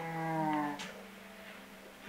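A Minecraft cow gives one clear, close moo that slides downward, followed by a soft thud and quiet game background.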